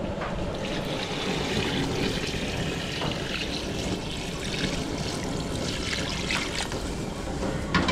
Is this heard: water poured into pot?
yes